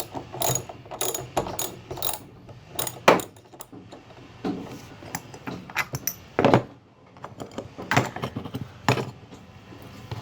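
A 3/8 inch ratchet with a size 45 Torx bit works bolts loose during a van strip-out. It gives bursts of quick pawl clicks and metallic clatter with short pauses between strokes. The sound is close and there is no talk.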